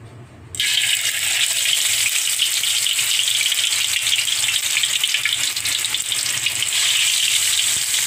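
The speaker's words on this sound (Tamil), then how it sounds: "மீனை நம்ம இப்போ பொரிக்க போகிறோம்." Pomfret fish drops into hot oil in a kadai and sets off a sudden, loud, continuous sizzle of close-up frying that stays strong to the end.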